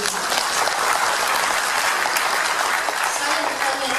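Thunderous applause from a crowd at a political gathering, a dense, continuous roar of clapping that holds steady for several seconds.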